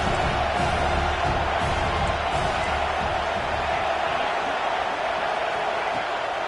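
A football stadium crowd at an LSU vs Tennessee game keeps up a steady, dense roar from all around. Occasional faint voices can be heard within the wash of noise.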